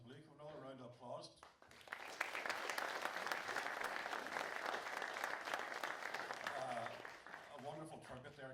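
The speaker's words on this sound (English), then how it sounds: "Give another round of applause." Sustained applause from a tribute concert audience fills most of the stretch, rising after a brief spoken intro and fading slightly near the end, with talk at the start.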